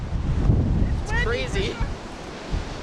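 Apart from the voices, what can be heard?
strong wind at Vista House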